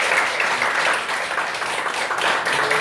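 An audience at a discussion forum applauds two panelists, with dense, steady clapping from a sizable crowd that holds at an even level for the whole stretch.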